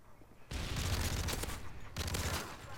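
Call of Duty MW3 gunfire arrives in two loud, dense blasts, one long and one shorter, with a brief lull between them.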